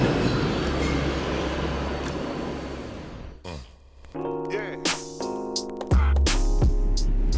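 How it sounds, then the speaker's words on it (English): A New York City subway train passes through a station with a steady roar, then squeals and clatters as it goes by, with voices talking over parts of it. "We've got a 5 train that's coming through the tracks here"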